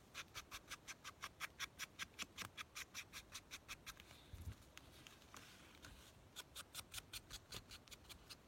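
Scissors snipping through a paper corner in steady rhythmic clicks, a fast run of regular cuts, then a brief pause with soft handling noise, then another quick burst of snips, close up and alone.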